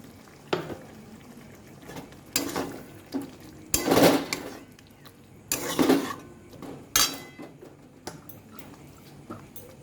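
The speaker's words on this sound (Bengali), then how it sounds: "এবার মিক্সি ধোয়া যে জলটা, সেটা আমি এখন দিয়ে দেব" Rinse water from a mixer jar is poured into chicken korma cooking in a pan, giving a few sizzling, splashing bursts with stirring and clinking of utensils around them.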